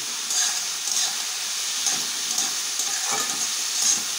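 Cashews and raisins fry in a pan with broccoli and sago, giving a soft, steady sizzle with faint hissing and light scraping stirs that recur every half second or so.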